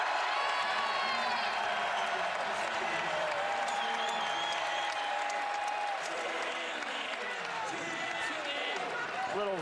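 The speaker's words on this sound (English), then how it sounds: "Listen to the crowd." Basketball arena crowd at an Alabama versus Florida college game, a steady roar of cheering and whooping that holds throughout, with commentators talking over it.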